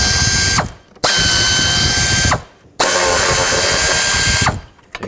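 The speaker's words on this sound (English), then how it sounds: "now I'm just gonna unbolt this whole bracket off of the intake" Ratchet unbolting three 10 mm bolts from an intake bracket on a 1997-2003 Ford F-150 with a 5.4L 2-valve engine; three bursts of rapid clicking, each about a second or more long, separated by brief pauses, close and loud.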